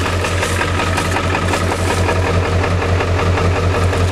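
Ford 7.3L diesel engine idling steadily after a cold start, a loud, continuous low rumble with a regular knocking clatter running evenly throughout, with no speech.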